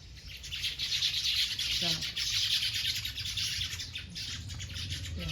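A dense chorus of birds chirps and tweets continuously throughout as they come to eat grain in the morning, with a brief voice cutting in now and then.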